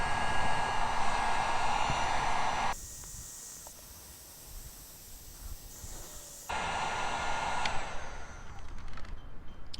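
A heat gun blows hot air onto the plastic of a Tracker boat, giving a loud steady whooshing hiss that drops to a quieter rush for a few seconds, then returns at full strength.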